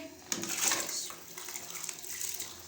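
Dry rice grains poured into a pot of boiling salted water while cooking Chinese pulao, giving a brief rattling, splashing rush followed by a softer bubbling hiss, close and moderately loud with no talk.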